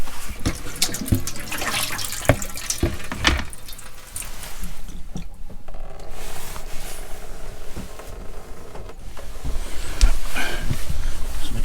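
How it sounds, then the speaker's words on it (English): Water gushes and splashes continuously as it drains out of a camper's boiler, rushing with irregular gurgles and spurts, fairly close and loud throughout. "To let the water drain out the boiler as well."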